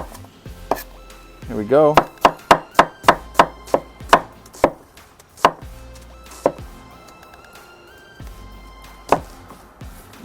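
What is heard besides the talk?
knife chopping onion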